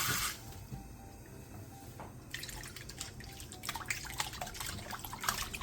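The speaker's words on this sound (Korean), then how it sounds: "볼에 매생이 반덩이와 천일염 한 스푼, 물을 넣고 매생이를 살살 문대가면서 씻어주세요." Maesaengi seaweed is gently rubbed and rinsed in salted water in a bowl, producing soft sloshing and dripping that grows busier midway, close up and quiet.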